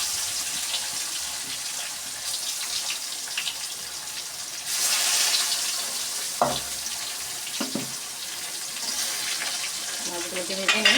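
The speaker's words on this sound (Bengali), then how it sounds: "আমি সরিষার তেলে মাছ ভাজছি, ইলিশ মাছ" Hilsa fish frying in hot mustard oil, a continuous bright sizzle with occasional clinks and stirring sounds, close and steady throughout.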